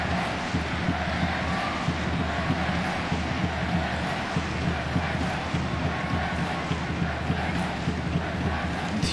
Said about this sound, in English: Enthusiastic crowd here getting behind the women's team.